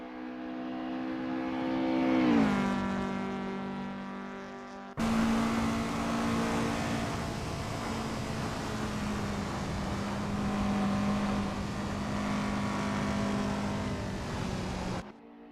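A Lotus Cortina's engine in the racing game Assetto Corsa revs and settles, then drones steadily at a constant pitch as the car rolls out, loud and close with a buzzy harmonic tone.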